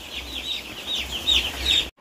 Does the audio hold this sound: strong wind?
no